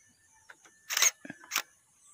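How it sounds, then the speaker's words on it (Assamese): A Canon 1500D DSLR shutter firing during outdoor bird photography, a couple of quick, close mechanical clicks over near silence. "এখন ক্লিক হ'ল"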